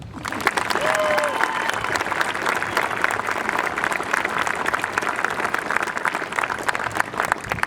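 Audience applause fills a graduation hall, a dense, steady roar of many hands clapping at once that holds for about eight seconds, with a brief faint tone early on.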